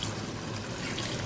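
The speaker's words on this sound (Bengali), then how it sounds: "এখন হালকা পরিমাণ মতন পানি দিয়ে দিলাম" Water trickles into a pan of dried kechki fish curry, a steady soft pouring wash heard up close for about a second with no talk.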